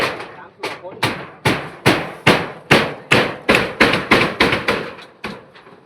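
Nails being hammered while roofing an outdoor kitchen: about a dozen sharp, loud blows land close by in a steady rhythm that quickens toward the end.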